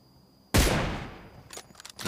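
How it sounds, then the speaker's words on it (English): A single loud M24 sniper rifle shot fires in a video game, a sharp crack with a decaying echo, followed by faint clicky game sounds. "Darshan getting the shot in there with the M24."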